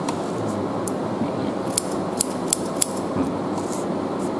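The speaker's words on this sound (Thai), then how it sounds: "ใช้กรรไกรปลายกรรไกรเนี่ยเก็บที" Scissors snip through a man's hair in a layered cut, giving light metallic clicks and snips over a steady hiss. The cuts come as a few separate crisp strokes spread across the stretch.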